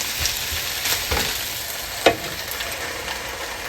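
Fish chili curry with tomatoes cooking under a lid gives a steady soft sizzle and bubbling, with a few faint clinks and one sharper tap midway.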